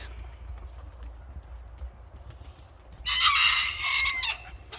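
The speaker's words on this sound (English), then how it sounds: "And the house chickens." A chicken suddenly squawks and clucks loudly over a low ambient rumble, close by, for about two seconds near the end.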